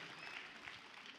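Applause at an event honouring judo, a brief, soft patter of many hands clapping steadily at a distance for about a second.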